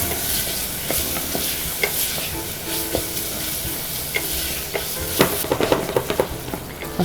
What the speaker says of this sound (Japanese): 先ほどのズッキーニを加えていきます。 はい、そしたらゆっくりと炒めていきますね。